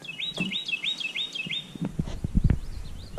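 A bird chirps a rapid series of repeated whistled notes, then thumps and rustling noises nearby take over.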